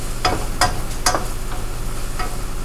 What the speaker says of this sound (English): Okay, let me stir this.